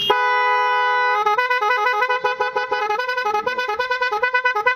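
A customised motorbike horn plays a loud, close musical melody of rising and falling tones, pulsing in quick rhythmic bursts with no other sound.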